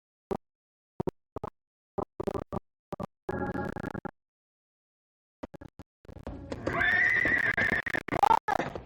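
Horses in a desert neigh and whinny loudly after a series of sharp clopping knocks, with a long shrill whinny rising late and ending in snorts.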